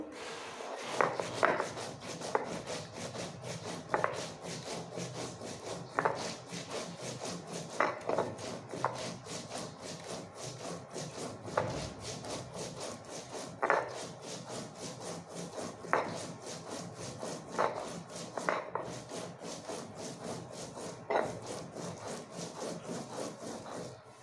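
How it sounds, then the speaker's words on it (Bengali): White cumin seeds ground by hand on a grinding stone in a home kitchen, heard as steady rhythmic rubbing strokes about every two seconds, close and moderately loud, with no talking. "নিয়ে নিয়েছি কিছু সাদা জিরা, এটাকে বেটে নেব।"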